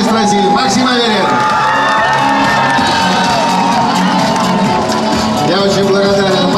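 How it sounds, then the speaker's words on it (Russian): A crowd in Kirov cheers and shouts in welcome as actors arrive, a loud, continuous mass of whoops and cries with high voices rising and falling throughout. "Кировчане встречали актеров восторженными криками"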